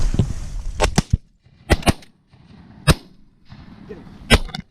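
Shotguns firing at ducks during a waterfowl hunt: several sharp, loud reports, some in quick pairs, spaced across a few seconds, with brief shouting from hunters between shots.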